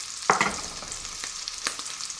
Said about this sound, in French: Pour mon beurre qui chante, je vais ajouter mes Saint-Jacques. On va les snacker de tous les côtés.